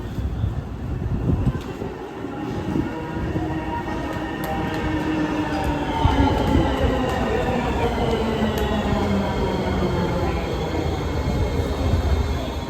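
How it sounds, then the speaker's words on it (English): A Honolulu Skyline metro train, bound for Kualakai, East Kapolei, rolls in with a steady loud rumble and rising, squealing wheel tones that build as it nears the platform. "here comes one of the trains now"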